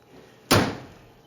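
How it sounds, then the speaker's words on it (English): A car door shuts once with a single solid thud midway through, close and clear, then fades quickly into quiet room tone. "Doors shut beautifully."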